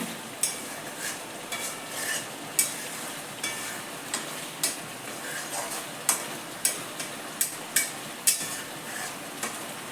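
Four pieces of katla fish fry in a pan while being turned over, with a steady sizzle broken by a regular series of sharp spatula scrapes and taps against the pan, close and moderately loud, no talking.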